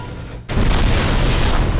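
A loud, sustained blast from the Assault Armor in the game Armored Core: For Answer kicks in about half a second after a quieter rumble and roars on, broad and booming, for well over a second.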